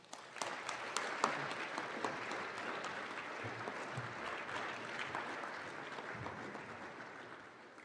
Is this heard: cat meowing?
no